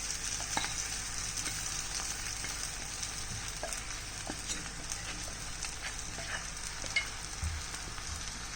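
A mixture of soaked sabudana and roasted peanut powder sautés in a pan, giving a steady close sizzle with occasional light stirring scrapes and taps.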